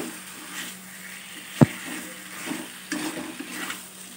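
Ginger and tomato paste stir-fried in a pan for a Bengali rui fish curry: a soft continuous sizzle with scraping stirs, one sharp knock of the utensil against the pan, then more scraping strokes.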